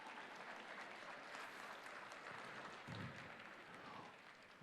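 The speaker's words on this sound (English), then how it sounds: "Normally, I get applause for that" Applause from a winter graduation audience in a large hall, a sustained crowd clapping heard from a distance, even and fairly faint with no break.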